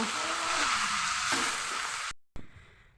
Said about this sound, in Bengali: এখন আস্তে আস্তে শাক আমি ভেজে নেব